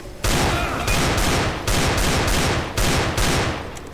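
Rapid bursts of automatic gunfire in the zombie shooter Left 4 Dead 2, loud continuous fusillades broken by short pauses, with no talk over them.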